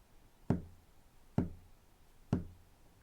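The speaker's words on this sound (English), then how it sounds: "The knocks were coming faster and faster" Three sharp, evenly spaced knocks on a basement door, each a hollow thud with a short decay, close and distinct against a quiet background.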